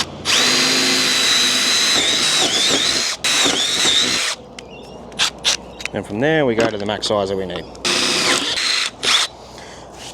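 A power drill bores a hole for a service fuse during a switchboard rewire, whining loudly and steadily for about four seconds before stopping, followed by someone talking.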